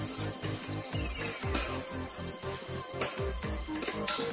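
A spoon scrapes and knocks rhythmically around a frying pan, stirring turmeric, chili, coriander and salt for shahi paneer while food sizzles softly underneath, steady repeated stirring strokes close by.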